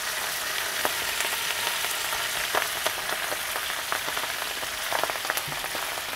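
Washed, drained broccoli rabe landing in a hot skillet gives a steady broadband sizzle with scattered crackling pops, fairly close and even throughout, with no voices.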